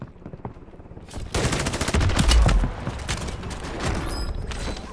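Shotgun blasts in Call of Duty gameplay, several loud booming shots ringing out in quick succession amid ongoing in-game gunfire and action, with no talking over them.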